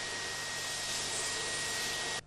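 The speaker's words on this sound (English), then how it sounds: "as for example this certified vacuum cleaner" A certified vacuum cleaner for handling SF6 equipment runs with a steady, dense broadband whoosh and a thin high whine, holding constant for about two seconds before cutting off abruptly.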